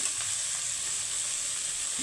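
Washed gime shak leafy greens fry in hot oil, Medinipur style, with an even, close-up hiss of sizzling that holds steady throughout.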